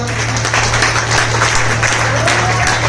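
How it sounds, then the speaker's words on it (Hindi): At a seminar in Rohtak, a loud, continuous burst of crowd applause fills the room, with steady dense clapping and a low hum beneath it. "एक बार इन साथियों के लिए भी जोरदार तालियां"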